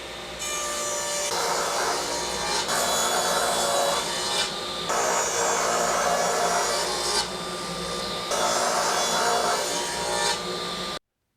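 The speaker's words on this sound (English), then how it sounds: "Now I'll use the table saw to cut the pieces to final width." Table saw ripping wood pieces to final width for a stool, several long steady cuts with a broad, loud whining buzz that swells during each pass and eases between, no talking.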